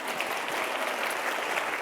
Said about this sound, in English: We like to give him a round of applause.